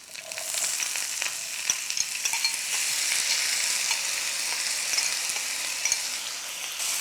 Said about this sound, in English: Now we will put the onions into it, the cashew nuts.